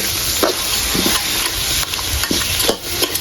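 Spices for fish curry sizzle loudly in a hot pan while a spoon stirs and scrapes through them in short, repeated strokes.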